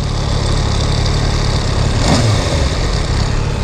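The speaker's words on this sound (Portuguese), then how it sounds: "Olha o barulho da moto." A motorcycle engine idles steadily at close range, a constant mid-pitched chug with one brief swell partway through, heard with no talking.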